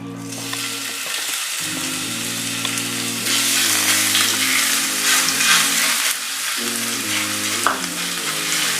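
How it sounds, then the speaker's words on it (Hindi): Loud, continuous sizzling of ginger garlic paste frying in hot oil in a pan, with a low tonal hum rising and falling underneath. "इसे हम थोड़ा फ्राई करेंगे"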